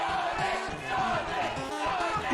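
Wrestling crowd at a match chanting for a wrestler performing as Sonic the Hedgehog, a dense rhythmic roar of many voices, loud and continuous.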